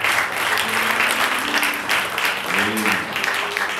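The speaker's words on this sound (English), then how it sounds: "Let's give the Lord a hand clap of praise." Congregation applauding and clapping hands in praise during a Sunday church service, a steady dense burst of claps close and loud throughout, with musical tones underneath.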